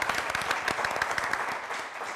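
A live audience claps for a school's competition score, brisk dense applause with a few louder individual claps, heard fairly close.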